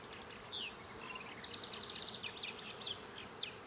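A captured honey bee swarm drones softly as it filters into a hive, a faint steady buzz with brief higher chirps and individual bees zipping past nearby.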